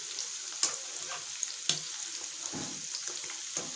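Chicken 65 pieces hiss and crackle in hot oil, with a steady high sizzle and a few sharp knocks as the pieces are lightly turned over in the pan.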